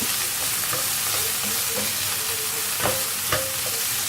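Minced meat with parsley sizzling in a frying pan for tacos, a dense steady hiss with occasional stirring scrapes, close and continuous without speech.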